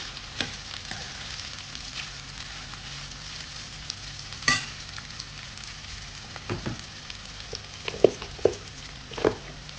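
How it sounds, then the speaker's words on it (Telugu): Onions and green chillies fry in a pan with a soft, steady sizzle, broken by a few faint stirring scrapes and clicks. "అండ్ పచ్చిమిర్చి కూడా వేసి మంచిగా ఫ్రై చేసుకుందాము, ఆనియన్స్ పింక్ కలర్లో వచ్చే వరకు"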